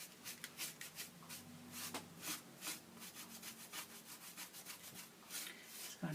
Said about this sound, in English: you can hear this brush is a lot coarser, and this is going to add in colour in a very different way